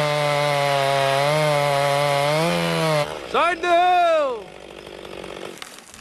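A chainsaw fells a tree at a logging site. The engine holds a loud, steady, buzzing whine for about three seconds, then its pitch dips and swoops as it bites into the wood. Someone shouts briefly over it.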